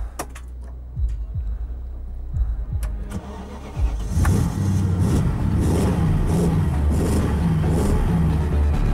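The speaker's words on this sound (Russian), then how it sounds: "Первая проверка двигателя. Насколько быстро он заведется при такой температуре?" A BMW 6 Series prototype car is started in extreme cold: a few faint clicks and thumps, then the engine catches and settles into a steady, loud, close idle with a low rumbling hum.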